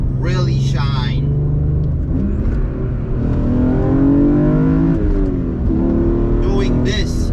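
A BMW E46 M3 fitted with 034 Motorsport high-density motor mounts drives on the road, its engine a steady close rumble that rises and shifts through gear changes while someone talks throughout.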